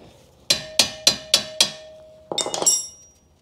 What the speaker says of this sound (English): we need to separate this ball joint. So big hammer, just on this spot